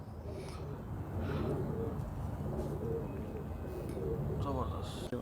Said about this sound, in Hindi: ये सारे मेरे तार वाले कबूतर हैं